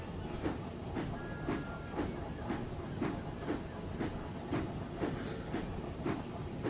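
A goods train is shunted at a harbour behind a big engine, with steady, evenly spaced chuffing beats and a background hiss, moderately quiet and without voices.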